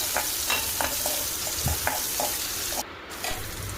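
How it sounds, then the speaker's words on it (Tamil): Onions and mustard seeds frying in a little oil while being stirred in a pan, heard as a steady hiss with rhythmic scraping taps from the stirring, close and fairly loud, with no voices. "கொஞ்சமாக ஆயில் விட்டு கடுகு போட்டு பொரிய விடுங்க வெங்காயம் ஆட் பண்ணிக்கலாம்"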